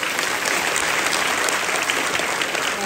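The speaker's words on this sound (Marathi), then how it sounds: "टाळ्या वाजवा" An audience at a Home Minister game-show stage event for a Ganesh mandal in Devwadi claps loudly and steadily, a dense, continuous wash of applause lasting the whole stretch.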